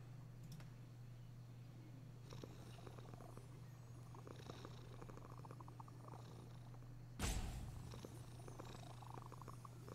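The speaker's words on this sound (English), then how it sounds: "Petting the cat." A cat purrs steadily and close while being petted, a low continuous rumble that runs throughout, broken briefly by a louder rustle of fur and handling near the end.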